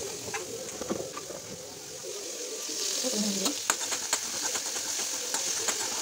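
Chicken fries in a pan with a light crackling sizzle that swells louder midway, scattered sharp pops and spatters over a steady hiss, with a faint low hum underneath.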